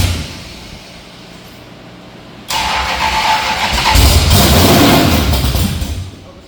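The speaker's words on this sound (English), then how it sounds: "See if we get a little bit of kickback on that starter." Old drag car engine turning over on its starter, a low hum that suddenly jumps into loud, close cranking that swells and churns for several seconds before easing off.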